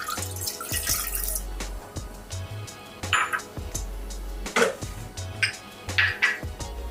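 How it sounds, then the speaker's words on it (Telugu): A bowl of water poured into a kadai on a stove, heard as intermittent splashes and dripping in short bursts, close by and moderately quiet. "ఈ బౌల్తో నేను బౌల్ వాటర్ వేస్తానండి."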